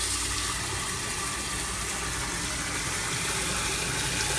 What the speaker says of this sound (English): Once you have the hot water running into the garbage can